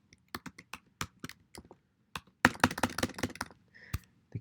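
Quick bursts of typing on a computer keyboard, light clicking keystrokes in irregular runs with short pauses and a denser flurry midway, close and fairly quiet.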